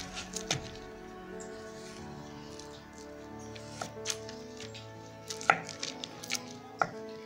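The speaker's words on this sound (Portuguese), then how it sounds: "Eu vou fatiar a minha em 3 partes." A knife slices through soft banana in a quiet kitchen, making a few crisp, separate cutting taps and clicks spaced irregularly, close and fairly faint, with no speech.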